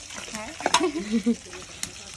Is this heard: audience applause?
no